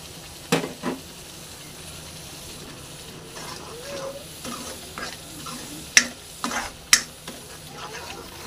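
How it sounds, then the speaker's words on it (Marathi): Powdered masala of turmeric, red chilli, coriander and salt frying in a pan with a soft continuous sizzle, broken by several sharp spoon scrapes and clinks against the pan. "आता याला चांगलं भाजून घेऊया।"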